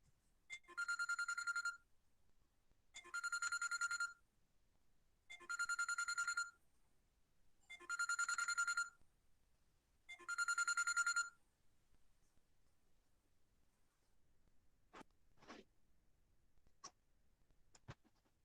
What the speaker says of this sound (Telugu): ఒక కాల్ వచ్చింది